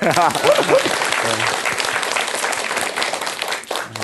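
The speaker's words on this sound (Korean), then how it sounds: "여기다 박수 한번." An audience at a Korean talk applauds together as a group, the clapping steady and fairly loud, while a voice speaks over the start.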